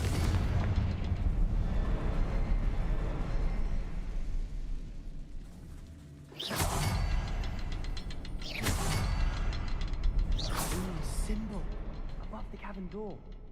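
A Confringo fire spell goes off in the video game Hogwarts Legacy, producing a series of sharp booming blasts with crackling, ringing tails over a continuous game music and ambience bed, with talk heard alongside.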